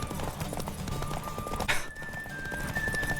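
Roach the horse in The Witcher 3 video game, with quick rhythmic hoofbeats and a short, sharp whinny partway through, close and fairly loud over a constant background.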